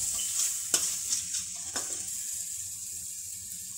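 Finely chopped tomato with salt sautéing in a pan for hotel-style sambar, a close, even sizzle with a few spatula taps and scrapes, no voices.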